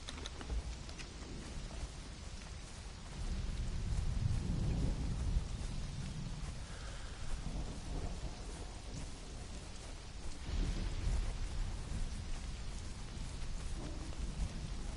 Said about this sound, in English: this thunderstorm is good